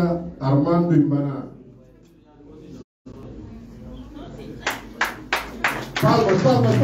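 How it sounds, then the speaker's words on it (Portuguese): At a political rally where a former PAIGC militant joins the Madem G15 party, someone talks, then a short run of rhythmic clapping breaks out, about five sharp claps under continued speech. "Vou acompanhar com palmas."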